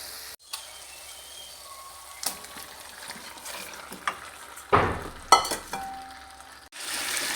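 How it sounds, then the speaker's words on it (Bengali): Chicken pieces sautéing in spiced masala in a pan make a quiet, low sizzle broken by scattered clinks and scrapes of a spoon against the pan, growing busier toward the end. "মাংসগুলো কষাতে দিয়ে দিয়েছি।"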